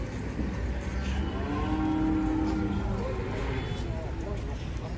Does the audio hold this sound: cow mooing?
yes